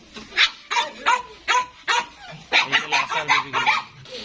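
Several dogs bark and yip in quick, high-pitched bursts close by, an excited chorus of repeated barks.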